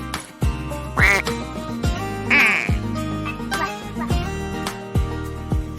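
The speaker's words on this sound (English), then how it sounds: "The duck says quack quack." A farm duck quacks repeatedly in short, nasal bursts, several distinct calls spaced across the span, heard close over a bouncy musical backing with a steady beat.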